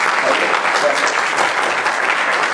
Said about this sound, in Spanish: Solicito, por favor, un voto de aplausos para el proyecto.